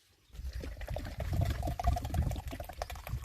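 Liquid Soil Top is poured into water to make a pomegranate slurry, a close, gurgling, splashing pour that starts after a brief silence and runs steadily with uneven bubbling pulses.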